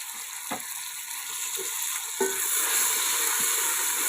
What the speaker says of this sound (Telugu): ఇవి కూడా మెత్తపడేంత వరకు కూడా బాగా మనం వేయించుకోవాలి